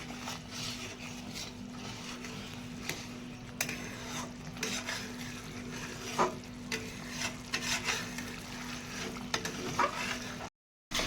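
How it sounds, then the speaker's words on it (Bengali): A utensil stirs fish curry gravy with sugar in a pan as it sizzles, scraping strokes and soft clinks recurring steadily over a constant low hum, with a brief drop to silence near the end. "এবার আমি একে নেড়ে একটু পরেই মাছটা দিয়ে দেবো।"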